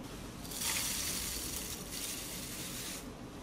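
Water pours over oats set to soak in a container, a steady rushing spray that swells after the first half second and holds before easing near the end.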